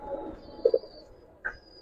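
Soft, low coos from an old-breed Giribaz pigeon in a loft in Old Dhaka, two quick close notes followed by a single later call over quiet background.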